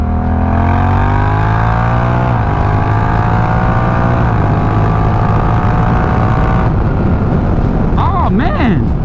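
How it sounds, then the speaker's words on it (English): A motorcycle's 1100cc parallel twin engine pulls hard in 2nd gear, a loud, continuous rising drone with climbing harmonics that steps through several pitch shifts before easing off near the end. "the 1100cc parallel twin that makes this thing go that way"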